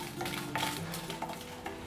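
Dry red chillies fry in oil in a pan for coriander leaf tokku, a steady sizzle with clinks and scrapes of a stirring spoon, close and continuous with no talking.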